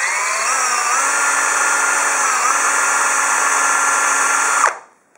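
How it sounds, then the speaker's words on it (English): A power drill fitted with a countersink bit with a stop collar whines steadily while drilling a hole, loud and close, holding one even pitch for about four and a half seconds before spinning down and stopping. "So I've got my special drill in"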